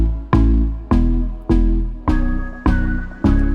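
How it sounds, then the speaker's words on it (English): A chopped guitar loop in an R&B beat repeats six evenly spaced plucked hits, each a bright attack decaying into a sustained tone, loud and clear with no voices. "But then I also chopped up a guitar loop over here"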